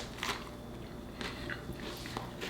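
Soft, crisp crunches from biting into a chicken lettuce wrap, a few quiet bites heard close up over a low background hiss.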